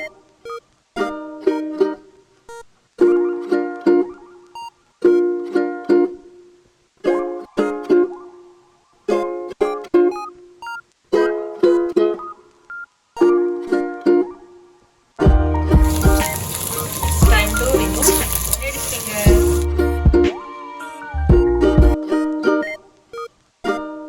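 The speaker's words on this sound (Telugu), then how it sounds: "లేడీస్ ఫింగర్ని కొంచెం ఫ్రై చేద్దాం. నూనె వేడెక్కింది" Okra (ladies finger) hits hot oil for a masala bhendi curry, bursting into a loud, dense sizzle that runs for several seconds after a stretch of plucked background music, which keeps playing beneath the frying.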